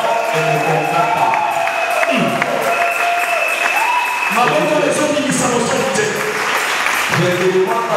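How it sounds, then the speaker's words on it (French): A church congregation claps and cheers while voices and sung or shouted tones run over the crowd noise, steady and loud for the whole stretch. "Est-ce qu'on peut encore acclamer?"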